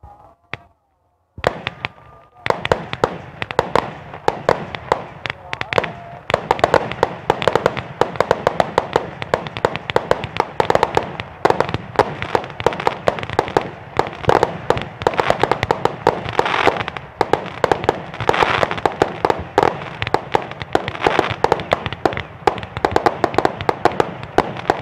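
A Basoka 160-shot roman candle fires on the night of Takbiran for Idul Adha. After one early pop, it launches a rapid, relentless run of sharp, loud bangs and crackles that carries on for over twenty seconds.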